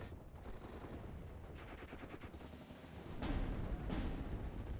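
Distant enemy gunfire in the World War II strategy game Steel Division, a low rumbling rattle of shots and heavier blasts, with two louder bursts near the end; no talking.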